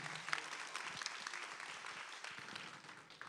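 Concert audience applause at a 30-year anniversary show in a theater: steady, dense clapping from a crowd, fairly distant and sustained throughout.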